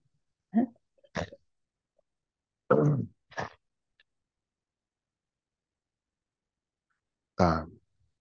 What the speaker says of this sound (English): I'm going to clear my throat for a second.